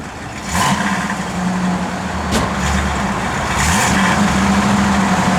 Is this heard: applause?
no